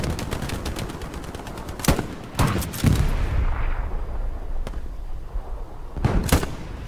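Gunshots in a first-person shooter video game, a rapid burst of automatic fire followed by several single heavy cracks and a final quick pair, loud and close.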